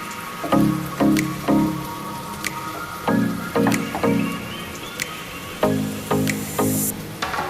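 Beef with jackfruit seeds simmers in a pot, giving repeated soft wet thuds and squishy bubbling pops in an uneven rhythm, close and moderately loud with a faint background hiss.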